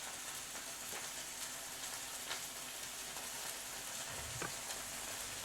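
Tomato puree cooking in a pan for restaurant-style lamb tikka biryani, giving a steady, even sizzle and bubbling hiss throughout, with a few faint clicks and no talking.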